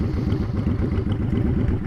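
Honda Shadow motorcycle idling with a Cobra Streetrod Slashdown exhaust, heard from about ten feet away in a parking lot: a steady, deep, loping rumble with fast uneven pulses, loud and continuous.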